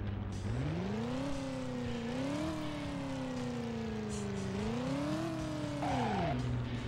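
A car engine in the video game RPD Driver drones loudly and steadily, its pitch rising and falling as it revs and shifts, with a brief squeal near the end and no talking.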